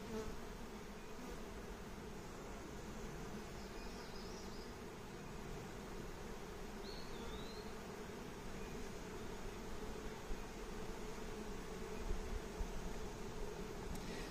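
Honey bees buzz steadily as a nuc is installed into a hive, a low continuous drone from many insects close by, even and unbroken throughout.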